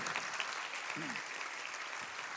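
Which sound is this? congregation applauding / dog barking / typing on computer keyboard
congregation applauding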